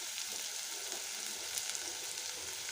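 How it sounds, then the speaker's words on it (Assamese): Bay leaves sizzle in hot cooking oil with a steady, close, crackling hiss and small pops, and no other sounds are heard. "আৰু তেলতে তেজপাত টিখিলাও দি দিম"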